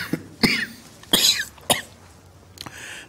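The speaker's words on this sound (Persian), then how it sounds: "نه نه نه سرفه نمیزنم، یعنی میزنم زیاد مهم نیست" Several sharp, close coughs in a comedy sketch, four distinct bursts spaced irregularly with a softer one at the end, loud and clear with no talking over them.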